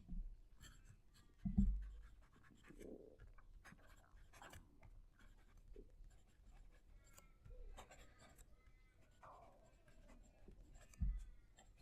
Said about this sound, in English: I love writing with this pen